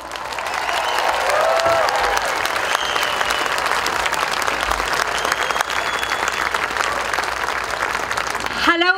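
A crowd at a Lone Star Tea Party rally applauds steadily to welcome speaker Adryana Boyne, a dense, sustained wash of clapping that holds throughout with a few faint cheers.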